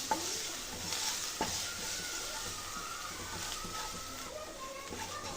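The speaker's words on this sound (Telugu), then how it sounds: "దీన్ని కూడా కలుపుకొని కొంచెం కుక్ చేసుకోవాలి" Masala and salt being stirred and fried in a pan, a steady close sizzle with scraping strokes of the spoon and a few light knocks against the metal.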